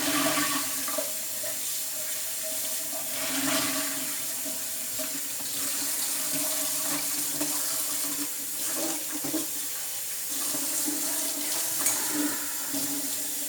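Water runs steadily from a tap into a sink while clothes are washed by hand, a continuous close splashing stream with slight changes as the flow hits the fabric, and no speech.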